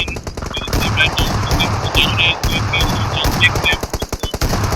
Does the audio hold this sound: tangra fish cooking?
no